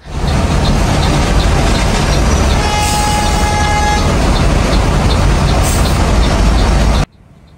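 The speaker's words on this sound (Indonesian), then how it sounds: "bus Bagong Land Perdana yang angkatan jam pertama pukul 11:17 sudah masuk ke shelter" A Bagong Mercedes rear-engine bus pulls into a shelter, its loud close rumble steady throughout with a sustained horn-like tone in the middle, then cutting off abruptly near the end.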